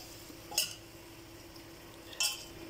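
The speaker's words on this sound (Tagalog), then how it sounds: "Haluin lang natin" A spoon stirs a mushroom dish in a cooking pot, giving two brief metallic scrapes and clinks spaced well apart over a low, steady background hum.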